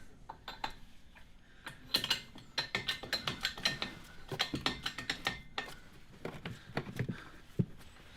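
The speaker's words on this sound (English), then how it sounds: "this bolt is torqued to the 110 Newton meters" A ratchet clicks rapidly and close while tightening a rear suspension bush bolt on a Renault Laguna Series 2 estate, irregular bursts of ticking with brief pauses, no voices.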